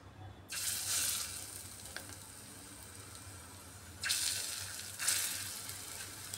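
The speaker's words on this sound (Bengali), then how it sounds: "তেলটাও গরম হয়ে এসছে। এবার ম্যারিনেট করে রাখা মাছগুলো এক এক করে আমি ভেজে নেব।" Marinated fish pieces for pakora drop one by one into hot refined oil and fry with a bright, close sizzle that flares in surges at each addition, then settles to a quieter hiss between them.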